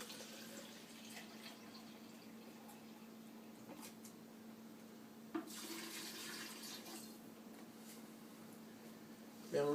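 Two cups of Hawaiian Punch Lemon Berry Squeeze are poured into a punch mix, making a faint, steady trickle of liquid over a low hum, with soft clinks and a brief louder splash.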